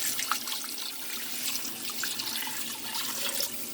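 Water pours steadily into a pot of homemade chicken noodle soup with the meat cooked off the bone, a soft continuous splashing and gurgling close by, with no voices.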